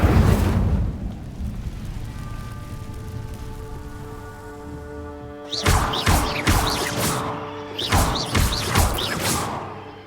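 Incendio fire spell cast in the Hogwarts Legacy video game: a sustained whooshing burst fades into a ringing tonal shimmer, then a rapid series of sharp crackling bursts follows.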